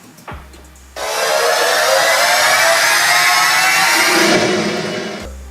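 A riser effect for a trap beat: a loud, bright, noisy sweep that swells up for about four seconds and cuts off abruptly, with a low bass tone just before and after.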